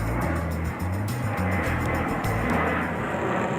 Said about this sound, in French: cette école primaire perturbée par le passage incessant des avions